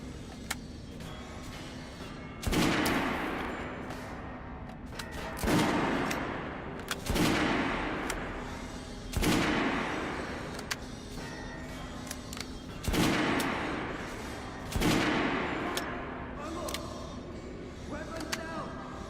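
Rifle shots at a firing range in the video game Metro Last Light, about seven loud cracks spaced roughly two seconds apart, each trailing off in a reverberant echo, with voices talking quietly between them.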